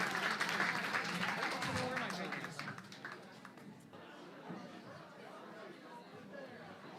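A live concert audience at Fogartyville applauds a folk band. The clapping is strong at first, then fades within a few seconds into quieter crowd chatter and murmuring.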